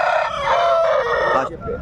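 A rooster crows loudly and close by at a Friday chicken market in Gudur. The call is one sustained, strained crow that cuts off abruptly, with faint market murmur behind it.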